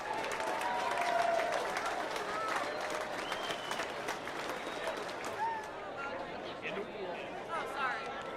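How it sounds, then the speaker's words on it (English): Crowd applause welcoming returning military veterans at an Honor Flight homecoming, sustained clapping mixed with cheers and chatter, with voices talking over it throughout. "big round of applause here"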